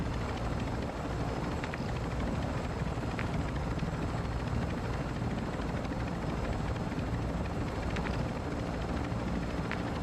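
Helicopter in the video game DMZ, a steady close rotor thump and turbine whine filling the scene without a break, loud and continuous with no talk over it.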